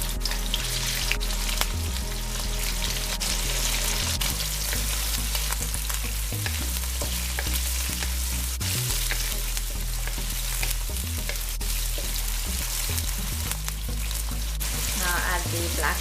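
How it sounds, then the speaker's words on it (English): Shrimp fry in hot oil with a steady, dense sizzle and crackle over a low background hum, continuous throughout with no talking. "My oil is hot. I'm gonna add the shrimps."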